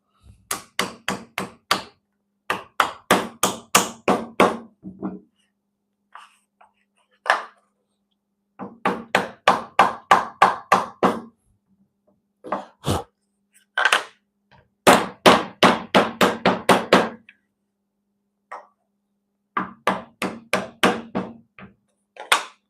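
A mallet hammers in a workshop in quick bursts of sharp knocks, eight to twelve strikes per run, pausing between runs, loud and close, with a few single taps in the gaps and no talking.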